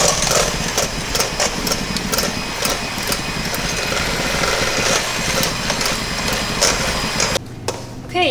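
Electric hand mixer beating egg yolks on high speed, a steady motor whir with rhythmic clatter of beaters in a bowl, close and continuous, cutting off briefly near the end.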